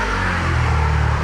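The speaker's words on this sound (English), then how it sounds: "Those loud motorbikes are everywhere." Loud motorbikes rumbling past on a street near Fuchu Park in Tokyo, a steady low engine drone filling the short moment with no talking.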